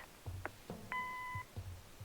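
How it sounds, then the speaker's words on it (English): A single clear electronic voicemail beep lasting about half a second sounds in the Kathy Rain: Director's Cut adventure game, set among faint low background noises. "Leave a message after the beep."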